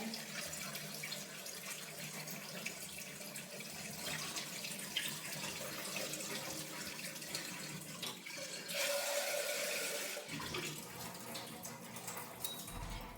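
Lentils being rinsed under a running kitchen tap, a steady rush of water splashing into a sink that swells louder toward the end, with no talk.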